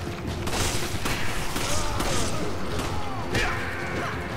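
Gunfire in the video game Resident Evil 5 fires as a run of sharp bursts and thuds over busy game noise and low background speech.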